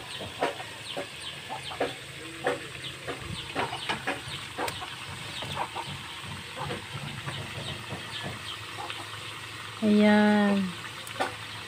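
Bananas frying in plenty of cooking oil for banana cue: a steady sizzling hiss dotted with sharp crackles and pops, a brief spoken word, and a loud crowing-like tone near the end.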